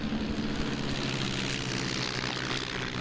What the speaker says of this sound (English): hearing those 5 gypsy engines flying over is a very emotional experience